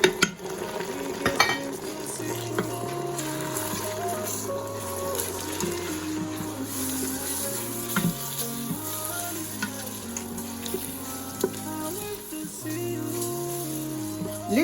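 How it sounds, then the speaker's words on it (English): Spices and pepper fry in a pot for yam porridge, a continuous crackling sizzle with occasional utensil clinks, sitting under steady background music. "Leave to fry for like 5 to 10 minutes."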